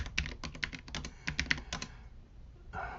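Keys clack on a computer keyboard as a command is entered in a terminal, a quick irregular burst of close, crisp taps that stops for a moment before a final flurry.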